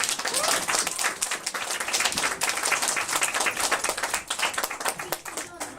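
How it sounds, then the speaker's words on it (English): Wedding guests clap together after a speech, a close, busy patter of individual hand claps that holds steady for several seconds, with a voice or two faintly under it. "So ladies and gentlemen, a big round of applause."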